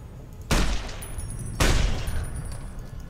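Two loud gunshots in Fallout: New Vegas inside Vault 11, each a sharp crack about a second apart with a short ringing tail and faint clinks after.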